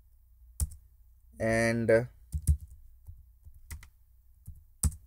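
A few light computer keyboard clicks as code is typed, scattered taps alongside a brief spoken word.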